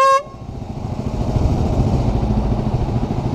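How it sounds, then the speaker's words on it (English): An air horn at a supermoto motorcycle event sounds one short tonal blast at the start, then gives way to a steady rumbling engine drone that stays loud and continuous. "coolest things, the air horn."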